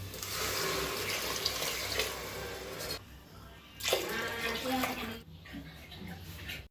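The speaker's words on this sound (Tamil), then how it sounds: "இப்போ 2 கப் தண்ணி ஊற்ற போகிறேன்." Two cups of water are poured into a pot of vegetable biryani with rice and masala, heard as a splashing gush, then a brief pause and a second shorter pour, close and fairly loud.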